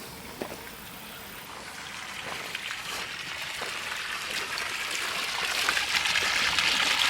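Water being pumped, a steady rushing, trickling flow that slowly grows louder and fuller over several seconds, with a few faint clicks near the start.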